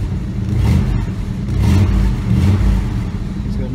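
A 1976 Jensen Interceptor III engine runs steadily and is revved in rising surges, a loud, close, continuous mechanical drone with some clatter.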